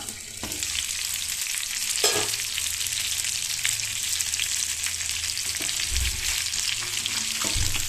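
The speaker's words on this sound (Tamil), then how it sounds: "இப்போ நம்ம அப்படியே திருப்பி விட்டுறலாம்" Rock fish fries in a pan with a steady, dense sizzle, broken by a few soft scraping thuds as the pieces are turned over.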